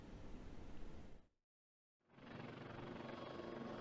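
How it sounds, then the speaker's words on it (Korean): A fire rescue helicopter hovers near the summit of Sanbangsan mountain on Jeju, its dense rotor and engine roar filling the air, broken by a brief silent gap before the steady roar resumes. "산방산 정상 부근에 떠 있는 소방 헬기."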